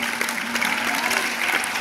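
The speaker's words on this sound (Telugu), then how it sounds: "క్లాప్స్ ఒకసారి కొడదామా?" Students at a high school career guidance session clap together in a steady, dense burst of applause filling the room, with a faint hum running underneath.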